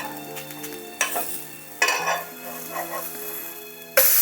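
A chickpea flour omelette cooks on a medium flame in a covered pan, a soft steady sizzle broken by a few clinks and clatters of the pan and utensils, close by.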